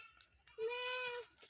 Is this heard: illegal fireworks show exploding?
no